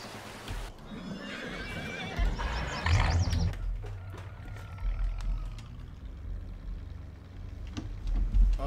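A horse in the Farming Simulator 2019 video game gives a loud, quavering whinny, then hooves clip-clop steadily over a low vehicle engine rumble, with a few heavier thuds near the end.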